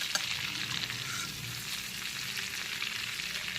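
Potato pieces and prawns frying in hot oil give a steady, dense crackling sizzle, close and moderately quiet, with no voices.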